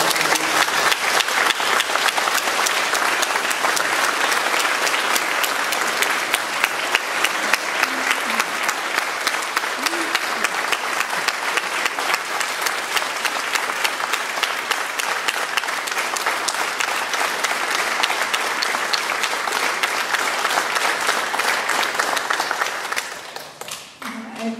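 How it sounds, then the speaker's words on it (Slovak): Audience applause at a folk music event, a long, loud, steady roll of many hands clapping together that fades out abruptly near the end. "A jeden veľký potlesk ujovi Ondrovi."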